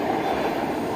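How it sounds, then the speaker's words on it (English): A train rolls past at Harpers Ferry, its steady, loud rumble and wheel clatter filling the whole second without pause, close by and with no voices over it. "I hear a train. Let's go see the train."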